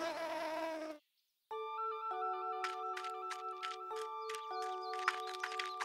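A cartoon bee gives a short, buzzy, droning hum for about a second, then falls silent before light tonal music begins.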